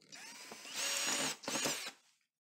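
Cordless power drill driving a screw into an electrical box for a 240-volt range outlet, a close, whining burst that ramps up, pauses briefly and runs again before stopping.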